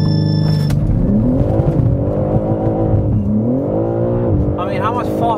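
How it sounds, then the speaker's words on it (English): A stock BMW M3 Touring pulls away hard under launch control, its engine note rising in loud sweeps through the gears as it is heard from inside the cabin. The noise stays steady and close, with voices talking over it. "Stock M3 Touring launch control cabin."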